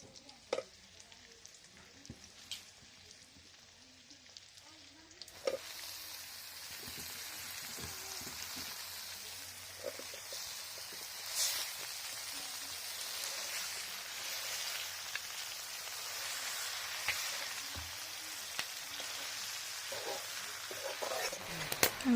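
Meat sizzling and frying in a pan for lai gahori, an Assamese pork and mustard-greens dish, with a steady crackling hiss that grows louder after the first few seconds and continues without talk.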